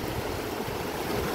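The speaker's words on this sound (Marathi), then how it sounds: "बघा मस्त पाणी वाहतं" Water flows steadily at Rihegaon Dam near Pune, a continuous, even rushing wash with no talk over it.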